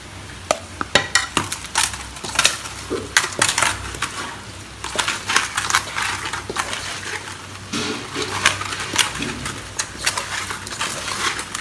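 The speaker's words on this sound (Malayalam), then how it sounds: "പിന്നെ നമുക്ക് ചിക്കനിലേക്ക് ഇങ്ങനെ മസാല തേച്ച് പിടിപ്പിക്കാം" Close, irregular squelching, crunching and rubbing as masala is mixed and worked by hand onto chicken pieces before grilling, with no talking.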